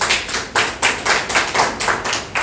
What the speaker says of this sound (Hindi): अगर समझ में आए तो एक बार ताली बजा सकते हैं।